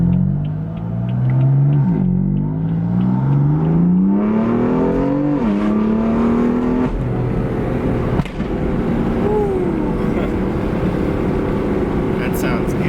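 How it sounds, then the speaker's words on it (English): BMW M4 F8X exhaust from inside the cabin on the road, engine note climbing through gears in loud sweeping pulls, followed by a lower steady drone with a brief crack midway. "That was the exhaust noise from the inside."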